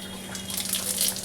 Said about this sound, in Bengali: এতে আমি একটু জিরে ফোড়ন দিয়ে দিলাম।